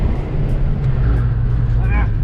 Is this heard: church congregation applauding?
no